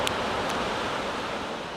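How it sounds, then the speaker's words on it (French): Powerful ocean waves at a dangerous beach make a steady, loud roar of surf and churning water with no break, close and alone. "En voyant des vagues aussi puissantes"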